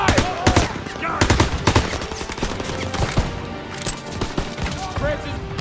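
Rapid bursts of gunfire from the Call of Duty WW2 video game, a World War II stronghold battle, crackle densely and continuously with overlapping shots, while game voices shout over the fighting.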